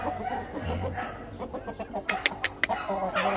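A young rooster, around 8 to 10 months old, gives short clucking calls amid other fowl, fairly close, with a few sharp bursts and low background noise.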